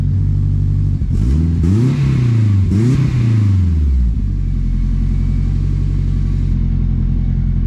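A car engine idles high with a deep, steady exhaust rumble from a muffler exiting under the car body, briefly revving twice early on before settling back to a low drone.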